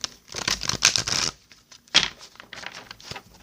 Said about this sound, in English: One more shuffle, and then I'm going to cut the deck for you, Caps.